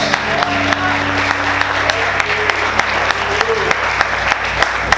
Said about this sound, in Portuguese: Você pode aplaudir o Senhor, queridos?